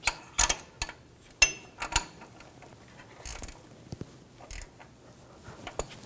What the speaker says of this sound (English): I'm going to use the ratchet wrench to tighten this down.